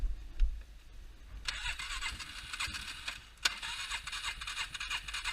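A cheap 400cc drag bike engine is choked and pulled to start. Rough bursts of engine noise sputter and catch, then fade and return in uneven pulses close to the microphone.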